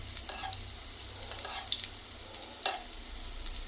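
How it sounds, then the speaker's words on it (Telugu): Eggs frying in hot oil, with hot oil spooned over the yellow yolks for an egg tikka masala, giving a steady close sizzle with a few brief scraping stirs and no talk. "ఎగ్గు ఒక సైడు చక్కగా ఫ్రై అవుతుండగానే మనం వేడివేడి ఆయిల్ చక్కగా ఈ ఎల్లో సొన్న మీద ఇలా పోస్తే"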